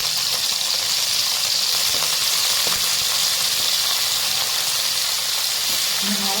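Shallots and tomato sautéing in hot oil for a South Indian drumstick sambar, giving a steady, loud frying hiss that continues evenly throughout with no talking.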